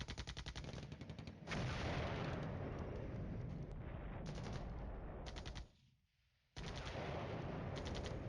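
Artillery fire in the Cold War wargame Flashpoint Campaigns: a dense, continuous roll of booming blasts and rapid gunfire crackle, loud and sustained, cutting off briefly into near silence before the barrage resumes.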